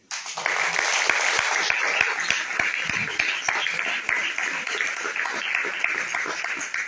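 A church congregation breaks into steady, full applause during a Spanish-language sermon, dense clapping sustained throughout with a few louder individual claps standing out.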